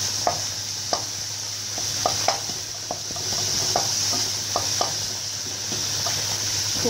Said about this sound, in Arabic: ونحرك الكفته